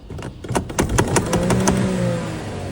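A used car that reportedly would not start at night cranks with a rapid rattling of starter clicks for about two seconds, then catches and settles into a steady, close engine idle hum.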